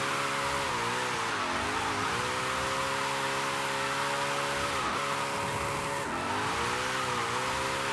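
A car drifting in Forza Horizon 5 during a track day event, its engine droning steadily while the tires squeal and shift in pitch through long sliding turns, loud and continuous.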